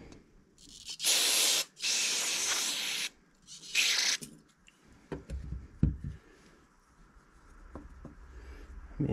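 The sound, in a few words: carb spray sprayed on a Briggs engine carburetor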